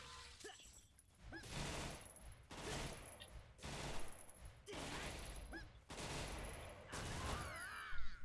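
Rapid bursts of gunfire in the video game Aion come in repeated volleys, loud and close, with crashes and brief gaps between sustained rounds of shooting.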